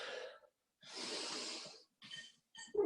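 Audible breaths during a stretch and strength workout: a short exhale, a longer drawn inhale or exhale, then quicker puffs, faint and close with quiet gaps between.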